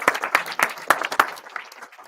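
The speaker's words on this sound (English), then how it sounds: "We have give Patrick a round of applause." Scattered applause from an audience at a tech talk, a handful of distinct sharp claps that thin out and fade over about two seconds.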